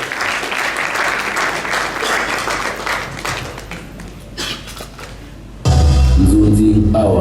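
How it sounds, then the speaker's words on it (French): An awards-ceremony audience gives steady, dense applause that thins out near the end, then the clapping is cut off by a sudden burst of loud music. "On va applaudir pour l'honorable."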